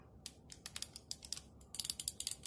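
A fly fishing reel's click mechanism ticks as the spool turns, giving quick bursts of small sharp clicks, close and fairly faint, that come in short uneven runs and then a denser stretch at the end.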